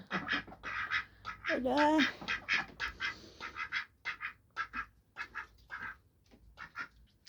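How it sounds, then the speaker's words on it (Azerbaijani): Ducks quack nearby in short, repeated bursts with a louder squawk among them, while a person speaks briefly. "Ördəklərimiz buradadır."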